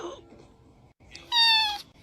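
A cat meows once loudly in a played cat video, a bright rising-then-falling cry near the end after quieter muffled background sounds.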